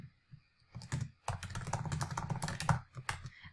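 Rapid keystrokes on a computer keyboard while writing an email subject line in a newsletter editor, a close, steady clatter of clicks with a brief pause, then bursts continuing to the end.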